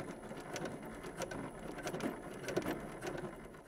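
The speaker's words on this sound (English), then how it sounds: "Just do the longest stitch on your machine and you don't have to worry about doing any back stitching." A sewing machine hums and clatters quietly throughout, running long basting stitches on fabric for a baby bunny beanie, a continuous, fairly faint mechanical whir.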